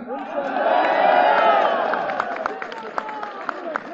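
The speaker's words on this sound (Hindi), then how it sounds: "लगाओ ना ताली यार" A large crowd at an outdoor political rally claps and cheers, a loud swelling roar of applause followed by scattered sharp claps as it fades; a voice speaks over it.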